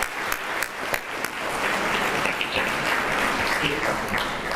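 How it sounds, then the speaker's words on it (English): A room gives a hearty round of applause at a 2024 school retirement and Wall of Fame reception. A few separate claps start it, then the applause swells into steady, full clapping that lasts to the end. "please give him even a bigger round of applause"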